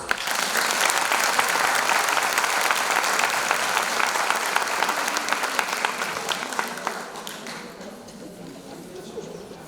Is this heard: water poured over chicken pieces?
no